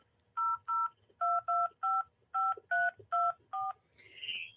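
A telephone keypad dials out in a quick run of about ten clean touch-tone beeps, evenly spaced and close, followed by a brief rising electronic tone, with faint room noise underneath.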